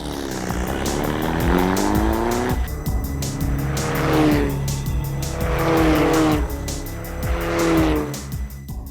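Several Formula Ford open-wheel single-seater race cars scream past in quick succession during morning practice, engines rising and falling in pitch with gear changes, loud and close throughout.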